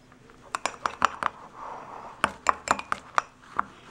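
A utensil stirs cinnamon roll batter in a mug, making quick clinking taps against the sides. The taps come in two bursts with a soft scraping pause between them, close and fairly clear.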